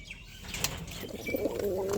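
Pigeons in a loft, with a brief flutter of wings followed by low cooing, close and fairly quiet.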